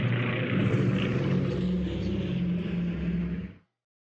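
Aircraft engines drone in the WW2 strategy game Strategic Command, a steady mid-loud propeller hum with a low rumble that holds evenly and then cuts off abruptly, leaving silence.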